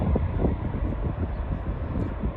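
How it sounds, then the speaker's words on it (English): Boeing 747 at Auckland International Airport with its engines at full throttle on the takeoff roll, a heavy, steady low rumbling roar with a broadband hiss, heard from a distance through some wind buffeting. "It's on full throttle now, and it will accelerate"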